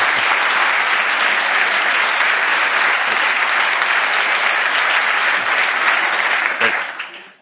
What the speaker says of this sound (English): Please give a warm round of applause to Mad Knight.